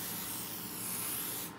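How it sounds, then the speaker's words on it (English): Cooking spray hisses from an aerosol can in one continuous burst lasting over a second, close and even before cutting off abruptly. "All right, gonna spray it down."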